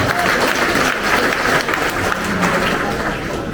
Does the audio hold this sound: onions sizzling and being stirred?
no